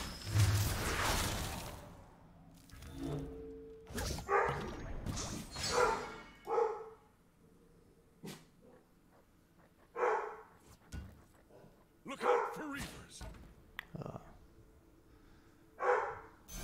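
A dog barks in a series of loud, close bursts separated by quiet gaps, with some yips and whimpers mixed in, and no one talks.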